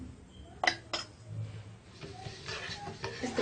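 A spoon stirs coarsely ground spice mix into hot oil for a carrot, cauliflower and turnip pickle, giving a few sharp clinks against the pan amid soft scraping and a faint sizzle, close by.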